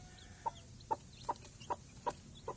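Backyard hen with her chicks gives soft, evenly spaced clucks, about six short calls in a steady rhythm, faint over a quiet hiss with no one talking.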